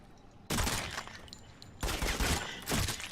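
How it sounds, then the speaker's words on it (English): Dense bursts of rapid gunfire in the video game General BlakkOut sound in two loud volleys after a brief quiet start, close and crackling with no talk. "Now let's get into some gameplay shooting."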